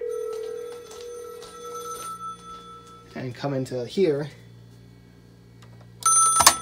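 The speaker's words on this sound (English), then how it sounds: "I could pick it up while it's ringing and it doesn't die." A Cisco VoIP desk phone rings in short electronic bursts, near and clear, with someone speaking briefly in between the rings.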